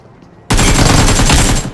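Loud, sustained burst of automatic gunfire in the BGMI battle royale game, starting abruptly after a quiet moment and continuing rapidly for over a second as an enemy is knocked down.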